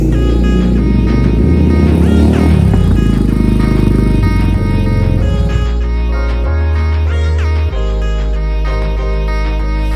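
A motorcycle engine drones loud and close throughout a road ride, its steady hum shifting pitch as the revs rise and fall.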